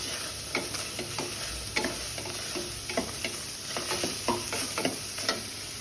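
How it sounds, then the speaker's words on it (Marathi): Chopped tomatoes are stir-fried in a pan without oil, a low sizzle punctuated by regular spatula taps and scrapes against the metal, about one every half second; no voices. "इथे मी पाव टोमॅटो घेतले, तो परतून घेऊया"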